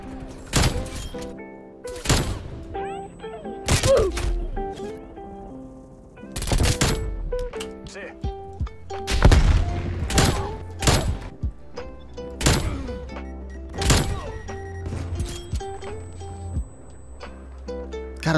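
In a video game, a Barrett sniper rifle fired with iron sights sends out a series of sharp, loud booming shots spaced a few seconds apart, with game sounds between them.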